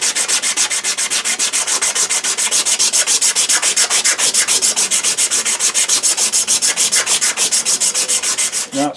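A wooden spoon is smoothed with fast backwards-and-forwards strokes, a loud, close, evenly repeated rasping rub of about five strokes per second that continues without pause and without speech.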